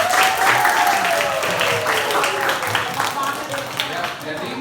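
A group of students applauds in a classroom, a steady wash of clapping that runs the whole stretch under a speaking voice.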